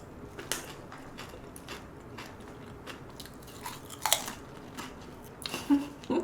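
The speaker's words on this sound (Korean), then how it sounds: "김치 한 입 먹어보고" Someone takes a bite of kimchi and chews it close to the microphone, giving a few soft crunches and moist chewing sounds over a quiet room.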